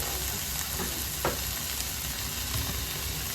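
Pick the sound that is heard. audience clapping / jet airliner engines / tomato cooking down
tomato cooking down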